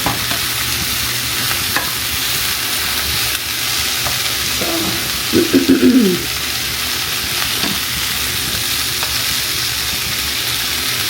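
Squash sautéing in a pan gives a loud, steady sizzle that runs the whole way through, with a brief warbling tone rising over it midway.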